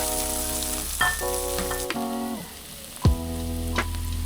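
Garlic and onion sautéing in a little leftover tilapia frying oil, a continuous close hiss and crackle with a few scraping knocks, overlaid by sustained tonal notes that cut out midway and return near the end.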